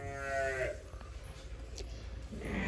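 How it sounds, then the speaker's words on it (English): Jacob sheep, a four-horned breed, bleating while its hooves are trimmed: one loud nasal bleat at the start and another toward the end, with quiet handling noises between. "this type of sheep is called a Jacob sheep or a four-horned sheep."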